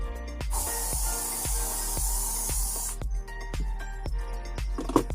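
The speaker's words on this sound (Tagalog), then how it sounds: "I-spray natin etong buong area na to." A Koby protectant spray can hisses in one long, steady, close burst lasting a few seconds, with a faint rhythmic thumping beneath it and no talk.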